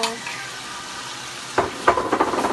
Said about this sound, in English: I'll stir it, let it fry.